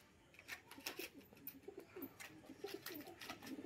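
Crested giribaz pigeons coo in a loft, soft repeated throaty coos in an uneven rhythm, fairly faint and close, with no talking.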